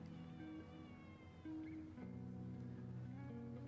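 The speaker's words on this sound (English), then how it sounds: "That is the loudest I've heard you meow." A cat meows a few times, drawn-out and fairly loud, over a soft musical background.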